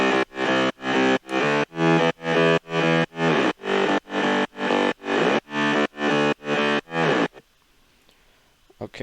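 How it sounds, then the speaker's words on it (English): A mid bass synth for a progressive house track, heavy and buzzy, plays a rapid run of evenly spaced sidechain-pumped notes that cut off after about seven seconds, leaving near silence. "the mid bass sounds like this."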